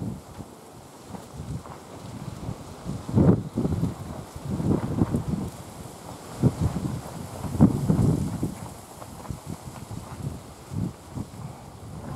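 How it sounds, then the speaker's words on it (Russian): Strong wind buffets an outdoor spot where birds are flown in a gale, giving rough, low rumbling gusts that rise and fall in uneven surges and thump against the microphone. "Вот такой ветер"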